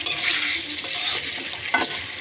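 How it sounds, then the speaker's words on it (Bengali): Meat frying in oil in a pan, a steady broadband sizzle with stirring scrapes and a brief louder burst near the end, close and continuous with no voices. "আমি আবার মাংসটা আবার তেল দিয়ে ভাজি করছি"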